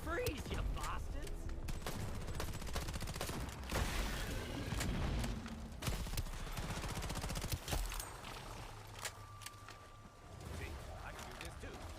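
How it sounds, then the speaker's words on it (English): Rapid bursts of pistol fire in a multiplayer shooter during an expedition PvP match, loud repeated cracks in quick clusters running almost continuously, with a player talking over the shooting. "burst fire pistol"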